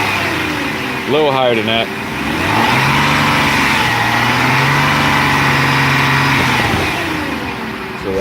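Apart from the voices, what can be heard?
Jaguar car engine revving then idling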